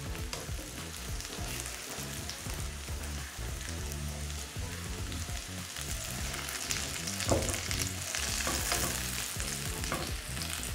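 Potatoes frying in a pan with their undersides browning, a dense, continuous crackling sizzle like heavy rain, close and steady throughout, no talking.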